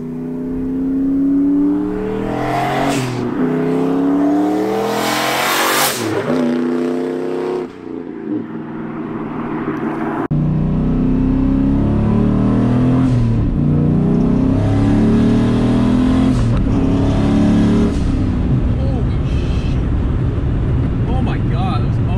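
A loud 435 hp turbocharged New Edge Ford Mustang roars past in cold, windy conditions, rising and falling as it sweeps by, then keeps rumbling with revving and wind noise while someone talks over it.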